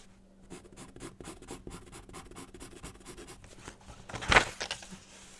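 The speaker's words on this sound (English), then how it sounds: "I think there's something under this piece of paper, because something is catching against the pencil right now." Pencil sketching on paper during figure drawing practice, scratching in quick repeated strokes, quiet and close, with a sharper rasping catch near the end where the lead snags on something beneath the sheet.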